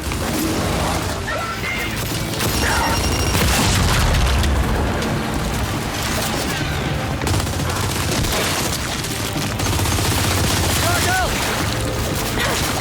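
Frag grenade explosion in the video game Gears 5, a heavy boom within loud, dense game combat of gunfire and crashes that runs the full thirteen seconds. Voices talk over it.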